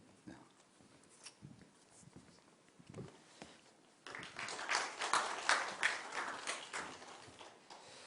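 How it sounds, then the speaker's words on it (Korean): A church congregation at a Sunday worship service breaks into applause partway through, a dense burst of clapping that swells and stays loud to the end after a quieter stretch with scattered voices. "다시 한번 박수 한번 해주시길 바랍니다"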